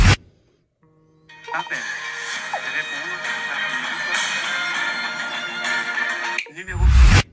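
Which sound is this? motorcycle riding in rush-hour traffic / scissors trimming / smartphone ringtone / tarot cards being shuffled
smartphone ringtone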